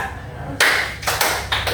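Sharp hand claps in a clap-count game, a few loud, close claps in quick succession after a brief quiet start.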